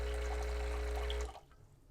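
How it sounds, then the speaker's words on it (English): Hot water streams steadily from the hot water pipe of a Breville Barista Express espresso machine during descaling, a close, constant hiss and trickle that cuts off abruptly after about a second. "turn the steam dial to the hot water icon to descale the hot water pipe for about 10 seconds"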